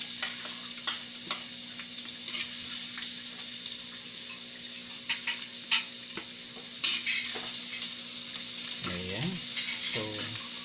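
Garlic sautés in a pan with a soft, steady sizzle and occasional stirring taps, and a person speaks briefly toward the end.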